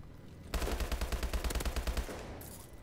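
Rapid automatic gunfire from the Call of Duty: Advanced Warfare video game during a team deathmatch on the Core map. About a second and a half of fast, evenly spaced shots come through loud and close, then stop.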